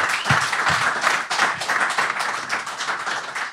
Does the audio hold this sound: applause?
yes